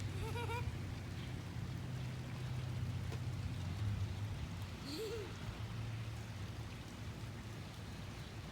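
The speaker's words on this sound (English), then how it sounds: "it started raining" Rain falling in a backyard, a steady soft hiss of drops on surfaces, faint and even throughout, with brief distant voices and a low hum under it.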